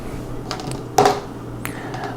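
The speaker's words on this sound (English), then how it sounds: "we roll the server dice twice" Server dice rolled in a tabletop board game: a brief rattling clatter of dice near the middle, followed by a faint tick, over quiet room tone.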